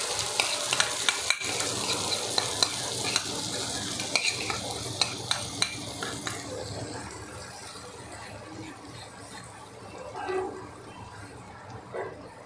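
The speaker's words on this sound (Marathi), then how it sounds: "त्याला छान असं तेल सुटेपर्यंत थोडंसं भाजून घेऊया" Onion and yogurt mixture frying in oil for Kashmiri-style dum aloo, with a steady sizzle and a few sharp clicks of a spoon stirring against the pan early on, fading softer toward the end.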